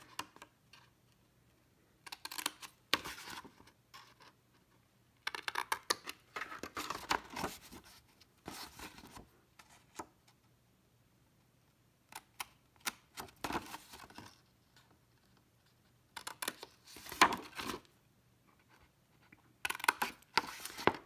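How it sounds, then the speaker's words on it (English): Scissors cut through scoring board paper in short bursts of crisp snipping and paper rustle, close and fairly quiet, separated by pauses of near silence, with no talking. "So I'm going to cut all those out real quick here."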